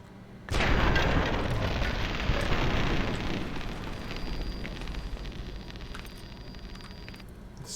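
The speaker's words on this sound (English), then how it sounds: "Grenade!" A grenade goes off in the video game Fallout New Vegas with a sudden loud blast, then a long, rumbling, crackling roar that slowly fades over several seconds, with no voices.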